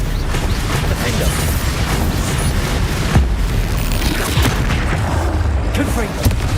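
The Bombarda blast spell in Hogwarts Legacy sets off heavy booms and crashing impacts amid dense, continuous combat noise, with a voice briefly heard over the din.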